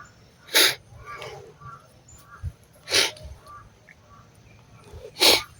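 A crow caws three times at evenly spaced intervals, each harsh call loud and fairly close, with low background rumble and faint chatter between calls.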